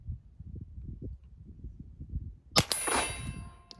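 A 9x18 Makarov round fired through a suppressor strikes a C-zone size steel plate at 25 yards, giving a single sharp metallic clang that rings and decays over a second, preceded by quiet low rumbling room noise.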